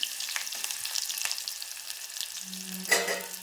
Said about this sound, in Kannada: ಈ ಉಳ್ಳಾಗಡ್ಡಿ ಫ್ರೈ ಮಾಡ್ಕೊಳತ್ರಿ